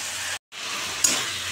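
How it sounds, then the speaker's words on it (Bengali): Potatoes and pointed gourd frying in a pan with bay leaf, whole cumin and a little ginger, giving a soft steady sizzle with a brief break and a light scrape or stir partway through. "এবার কষাচ্ছি"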